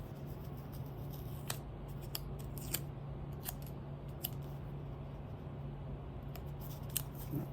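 Scissors cutting planner stickers, heard as a series of crisp, close snips spaced irregularly through the clip at a quiet level with no talking.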